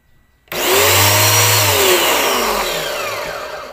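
A cheap online-bought electric pressure washer switches on with a sudden loud motor whine and buzzing hum that holds steady close by, then eases slightly, with no talking.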